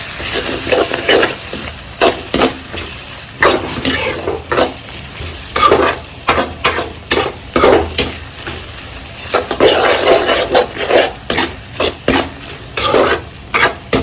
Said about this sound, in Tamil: நல்லா மிக்ஸ் பண்ணி கொடுத்துடலாம்.